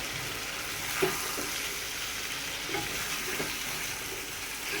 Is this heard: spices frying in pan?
yes